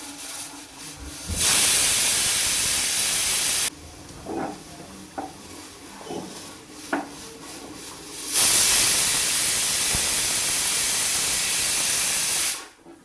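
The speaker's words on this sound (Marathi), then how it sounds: "आता कुकरच्या 5 शिट्ट्या झाल्यात" Loud, steady steam hissing from a pressure cooker whistling in long bursts, broken by a quieter stretch of clinks and stirring, then the hiss surges again before cutting off.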